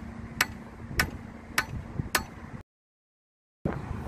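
A hoe handle is driven down onto a hard surface in four evenly spaced sharp knocks, close and fairly quiet, followed by silence and then a faint rustle.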